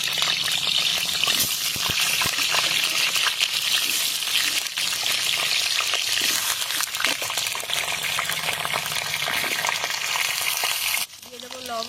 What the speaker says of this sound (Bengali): কড়াই গরম হয়ে গেছে, এখন দিয়ে দেবো সর্ষের তেল